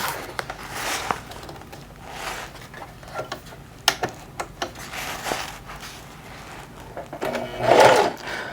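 A sewing machine hems the collar of a Mandalorian vest, running in short bursts of whirring stitching with clicks and knocks between runs, close and moderately loud.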